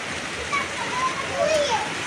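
Rain falls steadily outdoors in a dense, even hiss of drops, fairly close and continuous, with a few faint higher sounds rising briefly over it.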